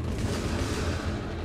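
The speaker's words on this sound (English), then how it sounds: "null cannon targeting MCC" Null cannon firing in a video game pub match, a loud, continuous booming rumble of heavy artillery-like blasts that fills the whole moment with no talking.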